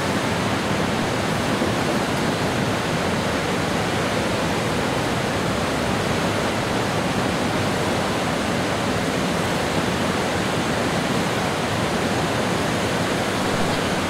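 A river in high water rushing under a bridge, heard at water level as a loud, steady broadband roar with no voices.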